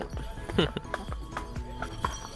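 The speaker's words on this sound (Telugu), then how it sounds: "ఓ గుర్రం" Hooves of a horse giving rides at a resort in Dindi, Konaseema, clopping in an uneven run of close, sharp knocks, with a voice in the background.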